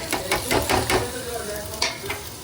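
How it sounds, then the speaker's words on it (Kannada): Onion, dried red chilli and curry leaf tempering sizzles in oil in a pan while a spoon stirs in quick repeated scrapes, close and fairly loud, with a steady hiss underneath. "ಇಲ್ಲಿ ಈರುಳ್ಳಿ ಮತ್ತು ಒಣಮೆಣ್ಸಿನ್ಕಾಯಿ ಕರ್ಬೇವು ಸೊಪ್ಪೆಲ್ಲ ಒಗ್ಗರಣೆ ಮಾಡಿದೆ"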